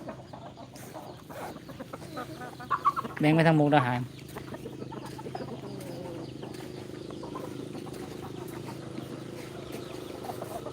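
Chickens on a farm cluck intermittently through the scene, with a louder burst of calls near the start, while someone talks over them.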